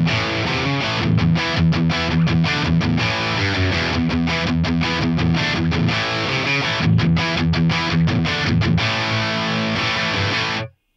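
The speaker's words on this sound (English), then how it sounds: "That's a nice thick JCM 800 sound." A thick, distorted electric guitar through a Marshall JCM 800 amp sound on an FM9 plays chugging riffs with choppy rhythmic stops, loud and steady, then cuts off abruptly at the end.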